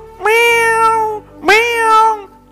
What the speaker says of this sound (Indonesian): kucingnya terus teriak-teriak meow